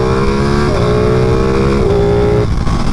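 A Ducati Panigale 959 sport motorcycle engine revs loud and close, holding a steady, buzzy harmonic drone. Its pitch steps down twice as the throttle shifts, with no voices over it.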